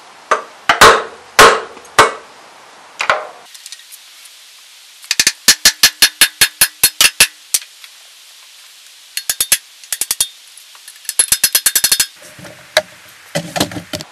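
Heavy hammer blows on the rear wheel weights of a Farmall H tractor, loud metallic strikes in uneven bursts: a few isolated hits, then rapid runs of evenly spaced blows with short pauses between.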